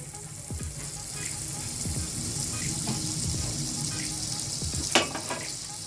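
Butter and oil sizzling in a frying pan make a steady, close hiss throughout, with a few soft low bumps and one sharp clink near the end.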